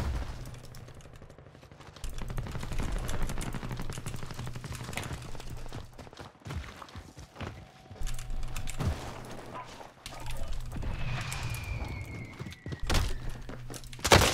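Video game gunfire: bursts of rapid thudding shots and mechanical clatter over a low rumbling backdrop, with a sharp tonal whine midway and a loud crack at the end.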